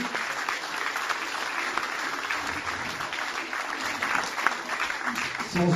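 Sustained audience applause at a chess tournament prize-giving, a dense steady wash of clapping filling the whole stretch, loud and continuous with some crowd murmur mixed in.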